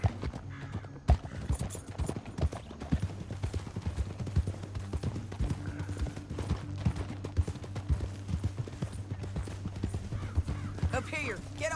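Horse hooves clip-clop steadily at a walking pace in Red Dead Redemption 2, set against a low droning game score, with a voice speaking over the hoofbeats.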